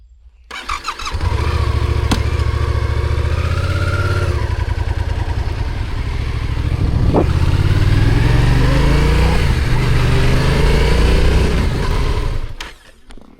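A motorcycle engine starts and settles into a steady idle, then revs up and down for several seconds before cutting off, close and loud with no talking, heard while touring Switzerland.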